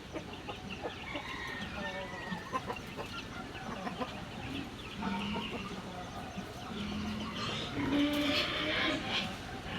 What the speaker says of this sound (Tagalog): Si mama po ay may 2 sisiw na dala.